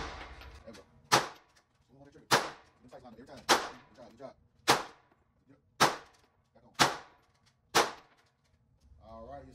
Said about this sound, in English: we're gonna put all 8 shots, center mass of that target.